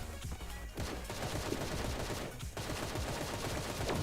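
Gunfire from the cartoon shooter game Sausage Man, rapid repeated shots crackling densely and loudly throughout, with a short lull partway, continuous and close.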